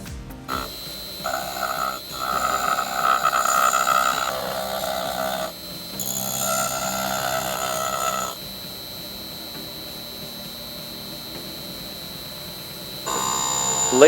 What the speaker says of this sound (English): The grinder wheel arbor, which I turned on this very lathe, the finest grit diamond wheel I have,